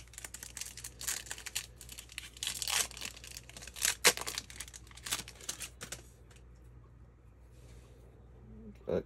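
A 2022 Panini Prizm blaster or Topps Chrome Mega baseball card pack crinkles and tears open in a run of close, crackling rips and rustles, fading to quiet near the end.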